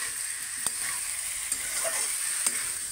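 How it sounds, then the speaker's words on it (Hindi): Chicken frying in a kadhai while it is stirred, with a steady, faint sizzle and occasional sharp scrape or clink from the spoon against the pan. No one speaks. "चिकन हम लोग बना डाल दिए हैं कढ़ाई में और मम्मी भूंज रही है"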